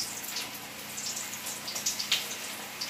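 Cabbage pakodi batter goes into hot frying oil, giving a soft, steady sizzle with scattered small crackles and pops at close range.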